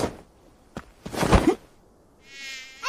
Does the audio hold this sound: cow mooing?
no